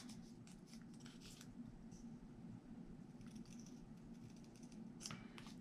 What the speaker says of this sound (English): So I'm just cutting this out, trying to follow the shape of that sticker.